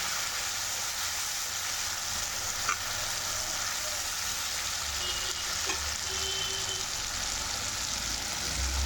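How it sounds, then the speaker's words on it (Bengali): Spice paste and potato pieces frying together in a pan for a Bengal-style fish curry, a steady close sizzle running throughout with a couple of faint clinks from stirring, no voices. "এবার দিয়ে দিচ্ছি আমি আলু একসঙ্গে কষিয়ে নেব"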